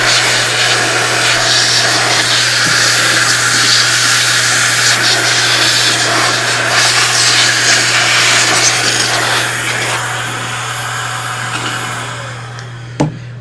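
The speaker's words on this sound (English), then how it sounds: "I'm going to show you how to blow out your machine" A serger sewing machine is blown out to clear lint, making a loud, continuous rushing hiss over a low steady hum. The hiss eases off near the end and then cuts out with a brief knock.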